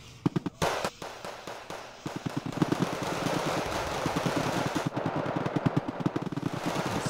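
Rapid bursts of explosive fire and blasts in a tank battle video game, dense and continuous, with short rhythmic volleys building to a sustained barrage.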